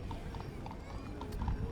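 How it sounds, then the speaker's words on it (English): Paint crossbred and Percheron crossbred horses clip-clop along a parade route, the hoofbeats steady and fairly distinct over a dense, rumbling outdoor background. "crossbred Percheron and paint crossbred horses"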